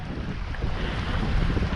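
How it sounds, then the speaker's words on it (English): Strong wind by the Cline River in Alberta buffets the microphone in a continuous low roar, with a broad rushing hiss and a faint sense of water nearby. "The wind literally just picked up as soon as we got to the river."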